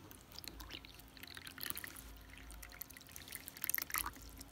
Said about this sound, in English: Here goes the water dish and here goes the water.